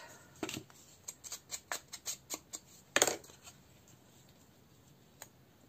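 Scissors snip through corrugated cardboard in a quick run of close, crisp cuts, followed by one louder crunch and then near silence.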